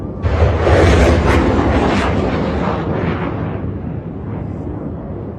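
An Iranian missile strike on a US base in Qatar produces a loud, broad roaring blast that erupts suddenly and then fades into a long, rumbling decay.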